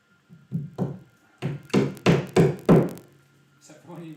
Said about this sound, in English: There's something incredibly satisfying about hammering plugs into the wall.